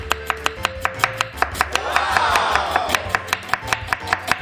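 A kitchen knife chops garlic cloves on a cutting board in a quick, steady rhythm of sharp, close taps, with a brief scraping swell in the middle.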